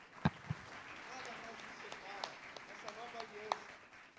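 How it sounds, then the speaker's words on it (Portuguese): Faint scattered clapping from a church congregation during a sermon, a few sharp claps over murmured voices and background talk. "Uma salva de palmas para Jesus."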